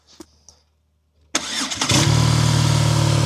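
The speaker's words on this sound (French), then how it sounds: "il a installé les pots J-Kill. Ça lui a coûté un bon billet, mais je vais vous faire écouter le son." A BMW R nine T motorcycle fitted with J-Kill exhausts fires up after a quiet pause with a few faint clicks, then settles into a loud, steady, close-up idle rumble.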